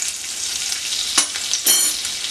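Ginger sautéed in hot oil for South Indian lemon rice gives a bright, even sizzle, with two brief scraping stirs of a spoon against the pan, close by and with no talk.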